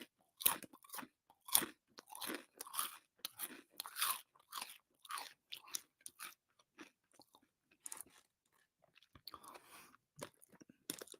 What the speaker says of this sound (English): I don't want to talk while I'm chewing because that would sound irritating